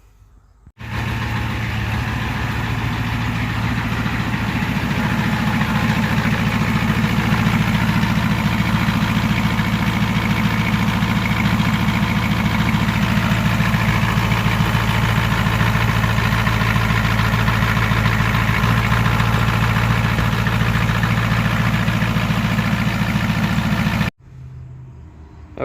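A 7.3L IDI diesel engine idles steadily and close by for over twenty seconds, a constant low, rough clatter with a droning hum, then cuts off abruptly near the end, leaving near-quiet.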